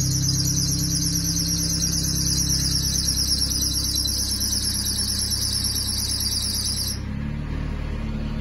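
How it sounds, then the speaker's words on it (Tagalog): A jeep engine at startup with its belt squealing, a loud continuous high shriek over the idling engine rumble that cuts off abruptly, leaving the engine running alone. "Lagi siyang maingay kapag i-start siya sa una. Ang alam ko kasi yun yung sa belt."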